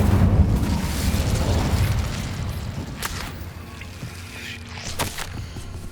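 Incendio fire spell cast in the Hogwarts Legacy PC game: a loud rumbling whoosh of flame at the start that fades, followed by a couple of sharp crackling bursts later over game ambience.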